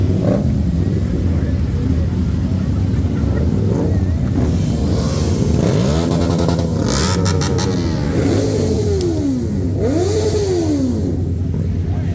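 A Ducati motorcycle engine at a busy Christmas car meet, revving in rising and falling sweeps over a loud steady engine drone, with crowd noise and some voices nearby.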